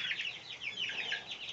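Six young goslings peep and chirp indoors in a house, a quick run of thin, high, overlapping calls, fairly faint and close, with no talking.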